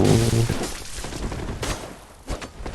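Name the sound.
enemy gunshots in video game Bloodborne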